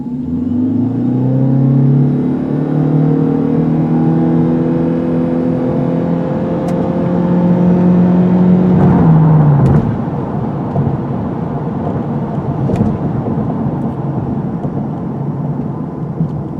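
A 2017 Ford Fusion Hybrid, weighing about 3,800 pounds, accelerates hard with a rising engine drone climbing steadily in pitch for about nine seconds, then drops back to a steadier rumbling road and wind noise.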